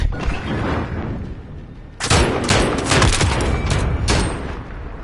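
Gunfire in the video game Modern Warfare: a dense, loud burst of rapid shots begins after a quieter stretch of background rumble, continuing in several sharp clusters close by, with no talk.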